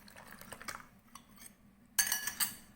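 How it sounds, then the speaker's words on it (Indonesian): A spoon stirs kue lumpur batter of coconut milk with suji leaf colouring, making soft scraping and light metallic clinks against the bowl, then a sharper burst of clinking near the end. "Terus kita aduk terus sampai semuanya larut dan tercampur rata."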